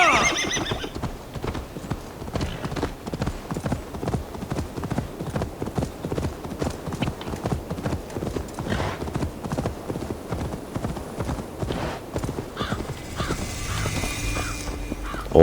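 A horse gallops in Assassin's Creed Valhalla, its hooves beating in a fast, steady rhythm throughout, with neighing and crow caws mixed in and no voices over it.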